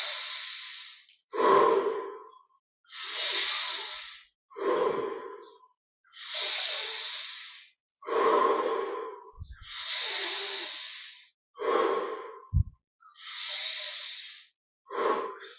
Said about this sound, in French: Petite respiration encore, avec encore un peu plus d'amplitude dans chaque respiration.